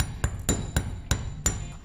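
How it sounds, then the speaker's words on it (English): The ball end of a hammer strikes metal flat with five sharp, evenly spaced taps about a quarter second apart, close and fairly loud, with faint metallic ringing after each blow. "all you do is you hammer it flat"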